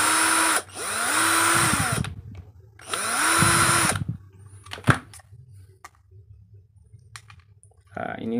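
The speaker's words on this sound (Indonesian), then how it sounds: "Oke, pertama-tama buka bagian baut yang ini ya teman-teman. Empat baut ya di bawah." Two bursts of a Black & Decker sander's power screwdriver whirring as four bolts are undone on the sander base, each about a second long, with clicks and handling knocks in between.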